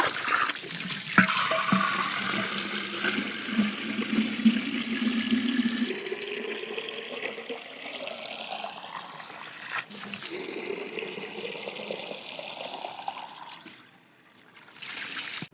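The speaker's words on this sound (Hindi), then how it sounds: "तो सबसे पहले पानी भर लेंगे" Water pouring steadily from a tap to fill a container at a village home before dawn, a continuous rushing trickle whose pitch rises gradually as the vessel fills, close and clear.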